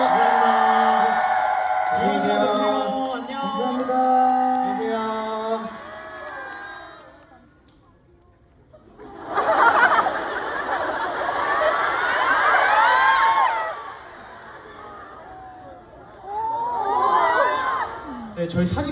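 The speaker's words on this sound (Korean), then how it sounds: "박수 한번 주세요" Fans at a fan concert cheer, shout and whoop loudly in bursts, with a stretch of amplified talking and music first and a quiet gap before the crowd noise swells again.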